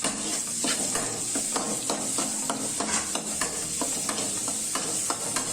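Ginger garlic paste frying in a pan for green pea rice, a constant bright sizzle broken by regular quick clicks and scrapes of stirring, close and fairly loud.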